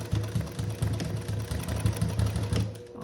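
A sewing machine stitching a patch onto a pair of jeans runs steadily and close by, a continuous mechanical hum with a quick rhythmic pulse that keeps going throughout, with no talking.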